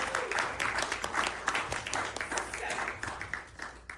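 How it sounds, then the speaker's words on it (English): An audience at a women's conference claps for several seconds, the individual claps distinct and fairly close, the sound fading slightly toward the end. "So a round of applause for yourselves."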